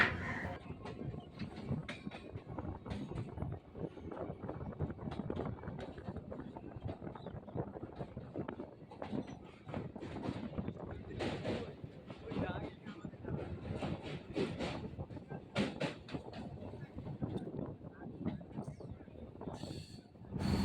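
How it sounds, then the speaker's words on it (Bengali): A train between Dum Dum and Budge Budge stations rumbles along steadily with rhythmic clatter of wheels over rail joints, continuous and fairly close, with a voice talking over it at times. "ট্রেন ছুটে চলেছে"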